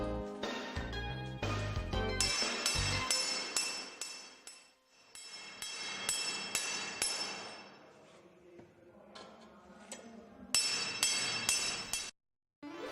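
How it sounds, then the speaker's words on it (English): Adjustment screws are secured with an installation mandrel, producing repeated ringing metallic hammer strikes that come in bursts with short pauses, close and moderately loud. "Secure all fully adjusted screws using installation mandrel 2."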